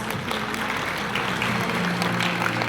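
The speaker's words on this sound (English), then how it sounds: "A round of applause, please." Graduation audience in a school hall applauding a guest speaker, a sustained, even round of clapping from many hands that holds steady throughout.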